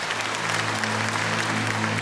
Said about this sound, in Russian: Шквал аплодисментов говорит об эмоциях зала.